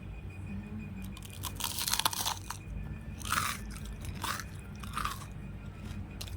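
Someone bites into a crispy, deep-fried fasting snack served with spiced curd, giving several close, loud crunches in irregular bursts over soft background noise.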